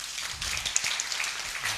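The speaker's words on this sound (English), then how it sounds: "Ladies and gentlemen, one round of applause to our panelists." Soft applause from a conference audience thanks the panelists at the TLNOG1 Timor-Leste Network Operators' Group conference in 2024: a brief, fairly quiet patter of clapping with a few sharper claps standing out.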